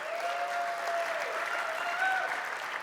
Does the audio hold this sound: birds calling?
no